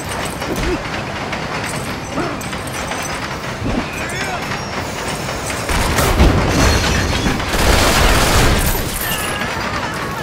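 Loud, rumbling train chase in Lego Marvel Superheroes 2, with dense rolling noise, clanks and booms that swell midway, under bursts of speech.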